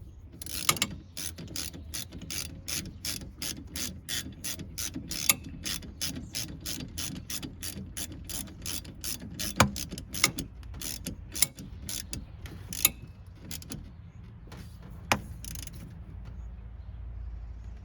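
Socket ratchet tightening the wiper module nut on a 1999–2006 GM truck, giving a long run of steady, evenly spaced clicks that slow and thin out toward the end, close and clear with no talk.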